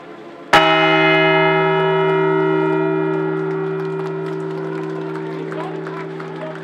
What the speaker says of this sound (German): Bevor die Glocken ins Innere gebracht wurden, wurde jeder einzelne einmal angeschlagen.